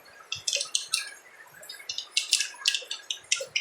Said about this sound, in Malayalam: ചൂടായ എണ്ണയിലേക്ക് കടുകിട്ട് പൊട്ടിക്കുക